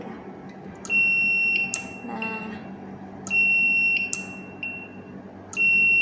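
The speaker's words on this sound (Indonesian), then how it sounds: "jika magnet didekatkan, itu buzzer nyala" Electronic buzzer wired to an Arduino Hall effect sensor, switched on when a magnet in a screwdriver tip is brought near, gives three steady high-pitched beeps, each just under a second long, with a short spoken word and low room hum beneath.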